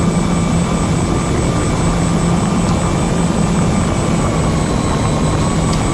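An FPV model aircraft with a pan-mounted front camera in flight: a steady, loud, continuous engine or propeller drone with a constant whine, close to the microphone and unbroken for the whole stretch, with no talking.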